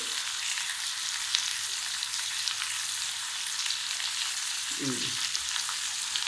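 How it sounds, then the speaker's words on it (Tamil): Tomatoes sautéing in a pan with a little salt for a tomato-onion chutney, giving a steady, close hiss of frying that runs without a break under a brief low murmur. "தக்காளி போட்டு வதங்கிடுவீங்க"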